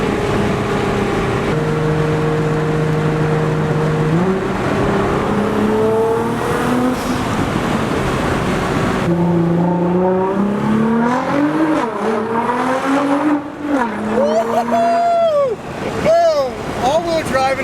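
A Nissan GT-R launches and accelerates hard at sunset in Utah, its engine note climbing through several rising gear pulls. The roar is loud and close and builds into higher revving wails toward the end.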